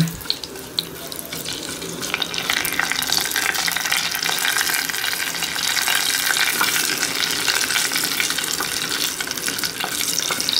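Mustard seeds, cumin seeds and black pepper tempering in hot oil for amla gooseberry rasam give a steady, close, bright sizzle with fine crackle that holds throughout, rising slightly after the first second, with no voices.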